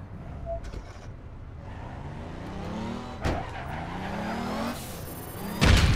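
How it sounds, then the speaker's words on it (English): A vehicle drives up in the online game APB Reloaded, its engine revving and tires squealing as it skids in, a sharp burst at the end, with faint voices underneath. "Bring in a vehicle"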